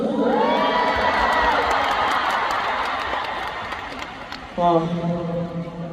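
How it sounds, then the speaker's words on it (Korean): A concert crowd in Seoul cheers, whoops and claps in a loud wash of high voices that gradually fades, then someone speaks over a microphone near the end. "박수!"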